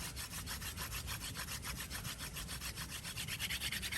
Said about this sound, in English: I'm just going to start off up here at the top of the spindle, just warming it up